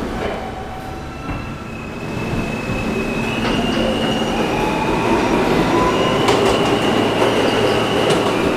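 A New York G local subway train rumbles loudly and continuously, with wheels clattering and high metallic squeals rising over the steady roar.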